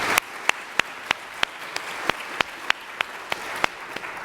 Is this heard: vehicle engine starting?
no